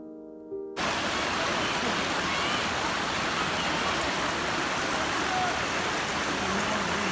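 A huge waterfall, among the largest in Asia, pours down as a steady, dense roar of rushing water that starts abruptly after a brief moment of quieter sound and continues unbroken at full strength.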